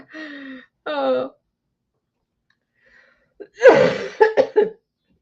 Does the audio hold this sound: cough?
yes